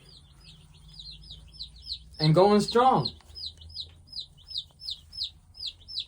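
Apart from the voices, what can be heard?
baby chickens chirping in a hatchery shipping box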